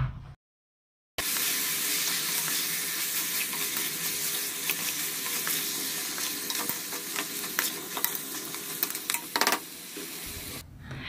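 Washed bones dropped into a pan of frying tomato masala and stirred for a bone curry, giving a loud, steady sizzle with scraping stir strokes throughout after a brief silent gap at the start.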